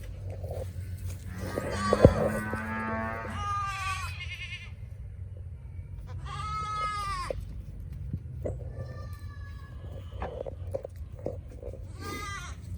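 Goats bleat loudly and repeatedly up close in a barn, with a sharp knock partway through, like a scuffle, and other animal calls in the background.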